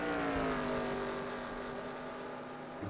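A damaged race car engine fails during a NASCAR racing video game at the Coca-Cola 600. It gives a loud, steady droning whine with layered harmonics that slowly sag in pitch, with no talking.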